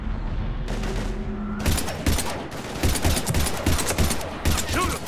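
Dense bursts of gunfire in the Mass Effect 3 video game, a rapid overlapping firefight of loud shots crackling one after another with no pauses.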